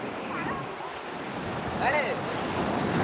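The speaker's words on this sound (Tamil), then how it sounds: "கடல் அலை இறச்சலில் என்னோட வாய்ஸ் எதுவும் சரியாக கேட்க மாட்டேங்குது" Sea waves break on a beach with a continuous rushing wash, blended with wind buffeting the microphone and a couple of brief higher-pitched sounds over the surf.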